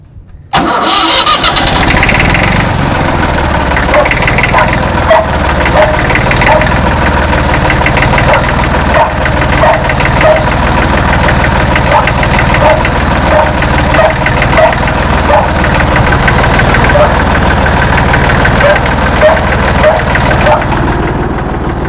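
An old Fordson Dexta tractor engine cranks and catches, then settles into a loud, steady, chugging idle with a faint rhythmic knock, close by and running on alone.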